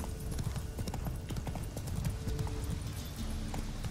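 Steady clip-clop of horse hooves from The Witcher 3: Wild Hunt, trotting at a brisk, even rhythm, fairly close, with no talking over it.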